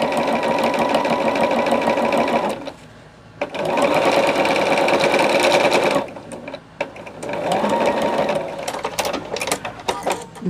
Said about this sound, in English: I'm just going to stitch this back down